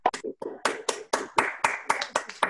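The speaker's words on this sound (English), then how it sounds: "give Pat and Shara a rousing round of applause" Several people unmuted on a video call clap at once for two authors at a literary reading, giving distinct, uneven, somewhat clipped claps in an irregular rhythm, close and fairly loud.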